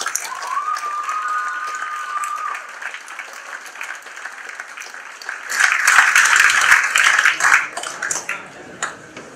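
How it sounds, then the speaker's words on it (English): Applause at a Hall of Fame induction, beginning with a ringing tone and light scattered clapping, then swelling into louder crowd applause midway before tapering off. "let's have another round of applause"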